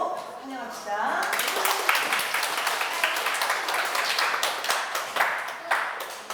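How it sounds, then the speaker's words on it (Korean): An audience at a public science lecture in Daejeon breaks into sustained clapping to welcome the speaker, a dense patter that swells after a brief spoken introduction and carries on steadily to the end. "오늘 강연해 주실 김옥래 박사님을 박수로 환영합시다."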